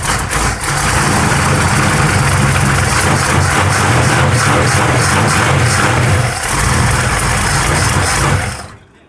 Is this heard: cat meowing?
no